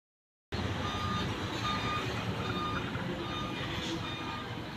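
Two trucks passing each other on a road beside a dam, with a steady engine rumble and a faint, regular reversing beep repeating over it, moderately distant.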